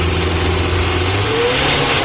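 A diesel engine revving hard with a knocking, rattling tone, steady, close and loud throughout the short stretch.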